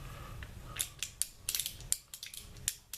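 A Heritage Rough Rider revolver's action is worked with the safety on, giving a string of light, close metallic clicks and ratcheting as the cylinder turns, irregular and fairly quiet, with no talking.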